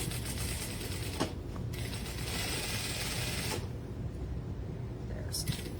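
A sewing machine topstitches a lined trench coat, giving a continuous mechanical whirring with faint clicks, steady and close throughout.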